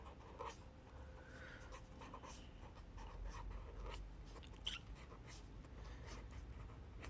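A pen writing a taweez on paper, producing soft, close scratching strokes in short bursts with brief pauses, faint and quiet against a low room hum, with no one talking.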